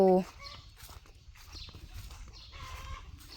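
A hen gives a short loud call, followed by soft scattered clucking from chickens nearby while a person talks quietly in the background.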